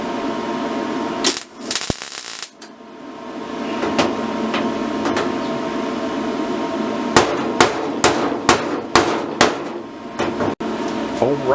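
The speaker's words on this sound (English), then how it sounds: "Maybe I'll just take that down now with a hammer before I lay this in here" A hammer beats sheet metal on the door of a 1965 Chevy G10 van during body repair, with a run of sharp, close metallic blows spaced apart and a few scattered knocks before them.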